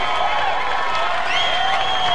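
Loud, sustained crowd noise at a Musclemania bodybuilding show as fans applaud and cheer a posing routine, with a steady wash of clapping and whoops plus faint rising whistles.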